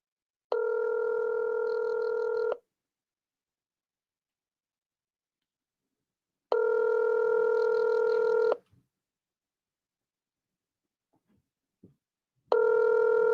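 An outgoing phone call rings back while dialing, three long tonal rings separated by long silent gaps, clear and alone.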